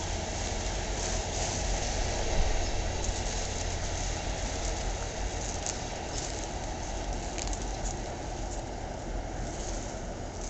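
A five-coach passenger train rolls past Wesmont station in Wood-Ridge, New Jersey, as a steady, broad rumble that holds the same level throughout, with no voices over it.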